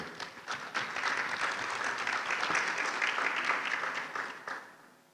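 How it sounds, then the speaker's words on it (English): At an international e-learning conference, the audience claps for a speaker, a fairly distant, dense round of applause that holds steady and then tapers off toward the end. "Let's give a round of applause there"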